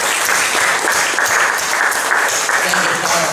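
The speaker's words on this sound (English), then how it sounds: "Can we give a clap of praise?" Congregation clapping in praise during a church service, a loud, dense, continuous burst of hands from many people close by, with a voice calling out briefly over it.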